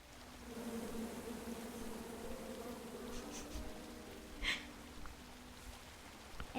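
Angry bees swarm out of a chopped-down tree in the King's Quest adventure game, a steady low droning buzz that holds throughout at moderate volume with no talk over it.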